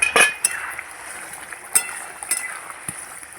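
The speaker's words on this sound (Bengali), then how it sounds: "ঢাকাটা তুলে নিচ্ছি" A metal lid comes off a cooking pot of potato curry, a few sharp clinks and clanks of metal, close and clear, with no voices.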